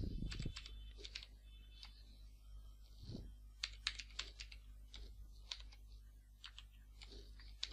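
Typing on a computer keyboard, scattered quick clicks and taps in irregular bursts with short pauses, faint and close, with a low steady hum underneath.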